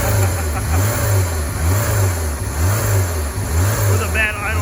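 Honda S2000 engine running again after being revived, rough and loud with a rhythmic pulsing idle that surges and dips, recorded up close, with a brief high squeal near the end.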